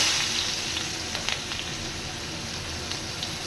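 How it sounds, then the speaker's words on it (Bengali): Chopped onion sizzles and crackles steadily in oil in a pan, a constant hissing fry with a few faint pops, heard close up with no talking. "ডিম ভাজার তেলটা ছিল, তার মধ্যে আরেকটু তেল দিয়ে দিয়েছি, দিয়ে কুচানো পেঁয়াজটা দিয়ে দেব।"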